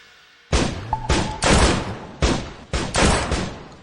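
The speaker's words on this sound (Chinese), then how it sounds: "哪来的枪声？" A volley of gunfire rings out in several loud, closely spaced bursts, each cracking sharply and echoing before the next, with no voices.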